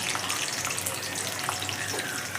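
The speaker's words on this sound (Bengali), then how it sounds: "বাদাম আর আমন্ডটা কিন্তু আমি প্রথমে হালকা করে ভেজে নেব" Nuts, almonds and sliced dry coconut fry in a pan for a vegetarian rajma and chickpea curry, making a constant close crackling sizzle with light stirring and no talk.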